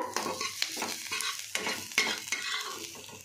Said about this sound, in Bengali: এই পেঁয়াজ রসুনটা আমার ভাজা হয়ে গেছে।